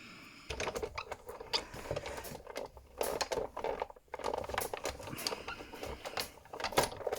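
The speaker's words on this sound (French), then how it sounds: "Je viens passer tout ça dans la machine." A die-cutting machine runs paper and metal dies taped down with washi tape through its rollers, giving a busy stretch of mechanical clattering and grinding in uneven bursts, close and fairly loud, with no talk over it.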